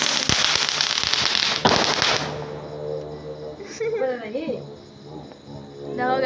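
Diwali firecrackers going off at night, a loud crackling burst of sharp pops that fades into a hiss, followed by faint chatter and distant whistles.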